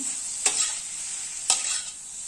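Tandulka (amaranth) leaf bhaji sizzles steadily in a pan, with two distinct scraping strokes of a spatula stirring the greens, close and alone without talk.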